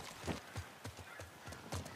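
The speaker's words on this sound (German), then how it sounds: "Bisschen schwerfällig, das Pferd." Horse hooves clip-clopping in the video game The Last of Us Part 1: a steady, fairly quiet series of hoofbeats, about six or seven evenly spaced clops, heard alone.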